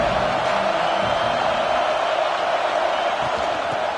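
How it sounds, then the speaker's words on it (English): Football stadium crowd at LSU vs Alabama, a continuous broad roar of many voices that holds steady and loud throughout, with no single voice standing out. "This crowd ready to make its presence known."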